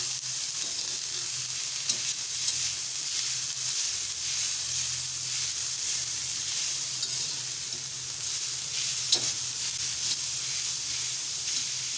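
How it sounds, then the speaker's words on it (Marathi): Bitter gourd pieces with salt sizzle steadily in a hot pan as they are stir-fried, a constant close hiss with occasional light scrapes of the spatula, no talking. "आता व्यवस्थित परतून घेऊया"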